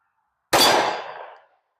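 One sharp, loud pistol shot from a Springfield XDM Elite .45 Super firing lead semi-wadcutter rounds, cracking suddenly out of silence and ringing away over about a second.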